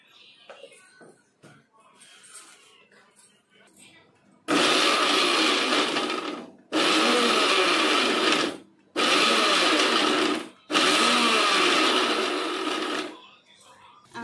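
Kitchen mixer grinding ginger, garlic, onion, mint and coriander with a little salt, four loud whining bursts separated by short pauses, after some quiet handling noises.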